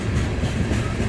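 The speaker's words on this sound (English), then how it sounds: "Wow, this train goes forever." A long freight train rolls past close by on the Appalachian Trail, a steady loud rumble with rhythmic clickety-clack of wheels over rail joints, continuous with no pauses.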